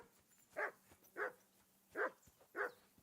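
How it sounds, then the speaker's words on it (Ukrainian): A single dog in the video game Kingdom Come: Deliverance II barks four times at an even pace, each bark short and clear against a quiet background. "А ну не гавкай!"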